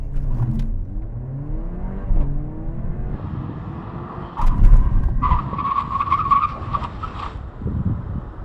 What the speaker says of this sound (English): I'm going to accelerate up to 50 miles an hour, then do a full emergency stop